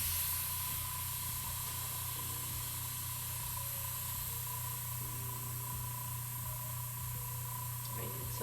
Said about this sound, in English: before we mute ourselves and spray everything